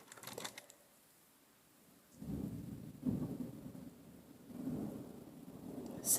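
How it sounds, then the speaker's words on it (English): A thunderstorm over the city of Lancaster: faint rain patters throughout while low thunder rolls and rumbles in several swells, distant and subdued, with no voices. "It's lightning and storming here in the city of Lancaster."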